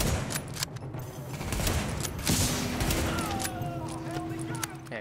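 Gunfire from a slow-firing weapon in The Division, heard as a few loud, spaced shots amid busy game effects and a voice talking.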